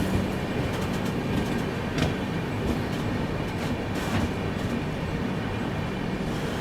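Express train running from Coimbatore toward MGR Chennai Central, a steady, loud rumble of rolling wagons with faint rail clatter and brief squeaks throughout, no voices.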